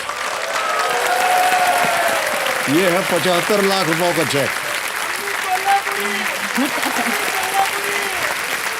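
A studio audience claps steadily for a contestant awarded a 75-lakh-rupee cheque on a television quiz show, with a dense, even wash of applause under a host's loud voice.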